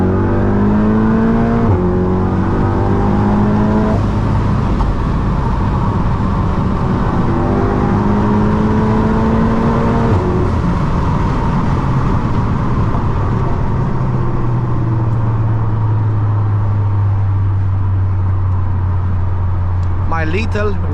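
A 500 BHP Golf R drives through London streets, its engine revving and shifting through gears with rising and falling whine, loud and close from inside the cabin, with brief other traffic passing.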